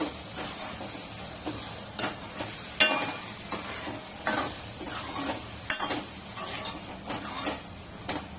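Ground masala paste stirred into hot oil in a pan for a village-style bombil curry, with scraping spoon strokes, soft sizzling and occasional clinks against the vessel.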